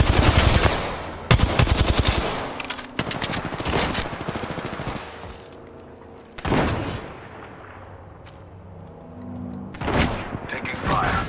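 Automatic weapons fire in Apex Legends during a ranked match: loud, rapid bursts that stutter in and out, separated by short gaps and softer mechanical game sounds.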